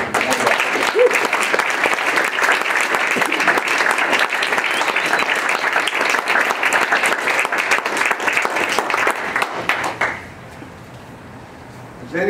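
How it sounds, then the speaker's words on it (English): An audience gives a sustained, loud round of applause for F. Lee Bailey at a talk on criminal justice and addiction recovery, dense steady clapping for about ten seconds before fading to quiet room tone. "Please give him a big round of applause."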